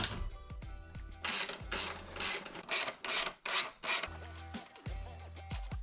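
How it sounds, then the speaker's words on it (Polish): A large wrench ratchets repeatedly as a motorcycle's rear wheel axle bolt is unscrewed, giving close, loud clicking and metallic rubbing in steady bursts without any talk. "Składam dużą fajkę i odkręcam śrubę osi tylnego koła."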